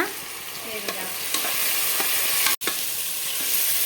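Ginger garlic paste frying with browned onions and green chillies in a pan, a steady loud sizzle with scraping stir strokes throughout and a brief dropout near the end; no talking.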